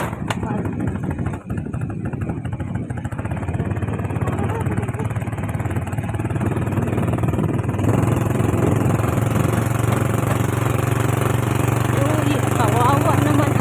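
A motorcycle engine runs steadily nearby with a continuous mid-pitched drone that grows slightly louder partway through, while people talk over it.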